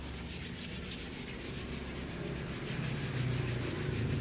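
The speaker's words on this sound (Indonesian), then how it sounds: "Dan amplasnya pun kita menggunakan amplas air." Wet sanding the body of a 1984 L300 minibus by hand with water sandpaper produces a steady, close scratchy rubbing that continues without a break and grows slightly louder toward the end.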